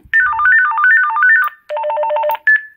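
A loud electronic ringtone from a children's walkie-talkie plays alone: a rapid warbling melody of beeps, a brief pause, then a faster trilling pattern ending in a single high tone.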